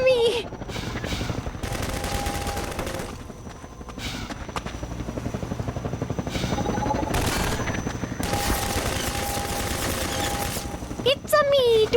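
Video game gunfire rattles in rapid bursts over a continuous helicopter drone, loud and dense with brief gaps, while a voice shouts and game sounds layer underneath.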